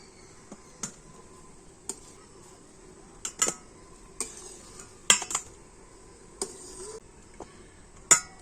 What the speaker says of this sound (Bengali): এবার আমি একটা ছাঁকনি নিয়ে তো ফুলকপিগুলো জল ঝরিয়ে আর তুলে নেব